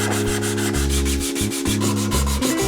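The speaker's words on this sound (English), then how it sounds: "I sanded it down with 180 grit" A 3D-printed part sanded by hand with 180 grit sandpaper, a close, steady rasping rub in even back-and-forth strokes, with a droning background hum throughout.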